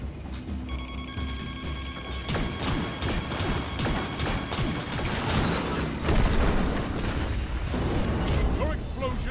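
Explosions and crashing impacts in a Destiny match, loud repeated bangs and debris-like smashes layered with game effects, while a voice talks over much of it.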